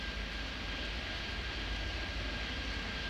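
A jet airliner lands in the Airport Madness 3D game, a steady, loud engine roar and rush holding evenly throughout with a faint tonal whine and no voices.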